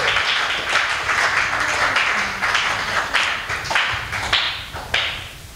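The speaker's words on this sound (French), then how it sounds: "Applaudissons pour la gloire de Jésus." A church congregation at a Christian women's conference applauds in praise, a sustained burst of many hands clapping at close range with steady rhythmic accents that fade slightly toward the end.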